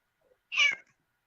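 A single close, loud cat meow, one short rising-and-falling cry standing alone against near silence.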